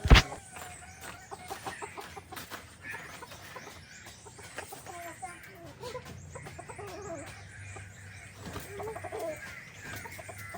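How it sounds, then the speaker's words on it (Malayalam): Chickens cluck in an irregular series of short calls, with other birds chirping around them and a steady low hum underneath. "ലിയോടെയും മാക്സിൻ്റെയും സൗണ്ടും പിന്നെ കോഴികളുടെ സൗണ്ടും പക്ഷികളുടെ സൗണ്ടൊക്കെയാണ്"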